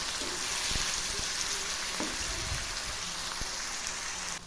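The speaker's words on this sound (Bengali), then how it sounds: "এই গাজরগুলো প্রথমে ভেজে নিলে তাহলে ভাজাটা খুব সুন্দর হবে।" Carrots fry in a pan for vegetarian fried rice, a loud, dense sizzle running without a break from start to finish, with faint scraping knocks underneath and no talking.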